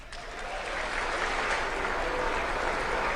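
An audience applauds Trump's speech with a sustained wash of steady clapping that swells slightly and holds, sounding like a large hall, with no speech over it.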